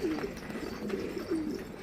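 Pigeons coo softly in a coop holding hundreds of birds, with three low rolling coos spread over a steady murmur of other birds nearby.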